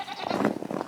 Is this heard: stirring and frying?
no